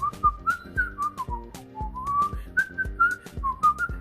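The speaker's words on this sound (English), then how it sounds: "she's always whistling and whatnot." A person whistles a lively, wandering tune alone, close and clear, with short bright notes and quick breathy attacks.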